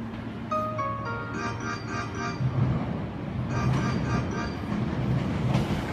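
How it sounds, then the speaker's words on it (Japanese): A Hankyu 8300 series commuter express train rushes through Awaji station without stopping, a loud rolling rumble with rhythmic wheel clatter and some brief tonal sounds as it passes close by. "2号線側通勤特急が通過します。"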